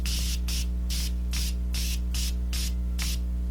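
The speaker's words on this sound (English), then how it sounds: "Then I'm going to go in with the Morphe Continuous Setting Spray." Eight quick, evenly spaced spritzes from a makeup setting spray bottle, each a short hissing burst over a steady low background hum.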